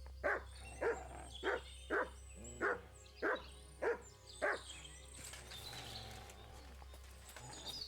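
A dog barks in Kingdom Come: Deliverance 2, giving seven evenly spaced, fairly loud barks over a low steady hum, then falling silent while faint birdsong and ambient game sounds continue.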